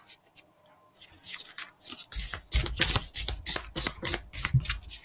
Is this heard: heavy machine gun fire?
no